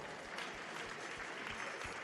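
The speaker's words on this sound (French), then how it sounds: "C'est ensuite Christian Boineau, qui mérite beaucoup d'applaudissements." Audience applause at the Choose France awards ceremony, a steady, faint wash of many hands clapping with no pauses, heard from a distance.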